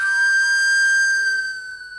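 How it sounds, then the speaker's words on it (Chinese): An old woman standing at a doorway blows a whistle in the morning in a Hungarian folk tale, giving one long steady high tone that holds for about a second and a half before fading slightly. "拿出哨子吹起来"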